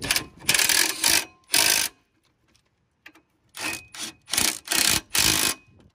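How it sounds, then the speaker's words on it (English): Impact wrench cinching down front brake caliper bolts on a 2001-2007 Ford Escape/Mazda Tribute, first in a few rapid rattling bursts, then after a quiet pause another run of five short loud hammering bursts. "Gonna cinch them down with the impact before torquing them down."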